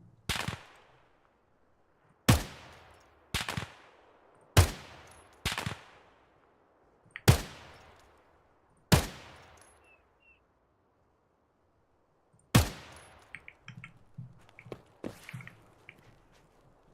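Gunfire in the video game Escape from Tarkov: sharp single shots with echoing tails, fairly near, several spaced irregularly over the span and a quieter flurry of distant pops near the end.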